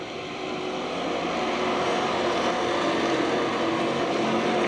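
Race cars circulate at Penn Can Speedway in 1997, a dense, continuous roar of several engines that swells slightly in the first half second and then holds loud and steady, with no voices.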